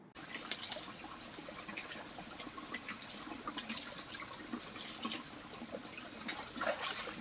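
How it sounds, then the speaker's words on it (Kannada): Steady, soft trickling water flows continuously, a faint outdoor babble with occasional small splashes and no voices. "ಮಳೆ ಬರ್ತಾ ಇರೋದ್ರಿಂದ ತೊರೆಗಳಲ್ಲೆಲ್ಲ ಲೈಟಾಗಿ ನೀರು ಬರೋದಕ್ಕೆ ಸ್ಟಾರ್ಟ್ ಆಗಿದೆ"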